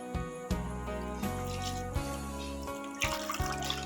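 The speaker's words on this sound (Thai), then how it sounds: "สิล้างไปเรื่อยๆเด้อทุกคน" Wild mushrooms being rinsed under running water, with a steady stream from a tap splashing and trickling continuously, broken by a few handling knocks and shifts in the flow.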